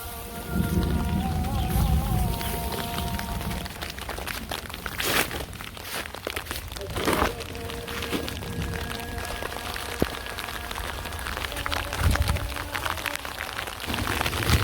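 Heavy rain pours down steadily and fills the whole stretch with a dense hiss, and faint voices and scattered knocks and rustles come through it.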